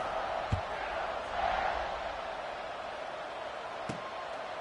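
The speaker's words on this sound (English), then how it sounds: "this crowd is buzzing after that last score" Stadium crowd at a home college football game in College Football 26, a steady distant buzzing roar with a couple of faint thuds, fairly quiet throughout.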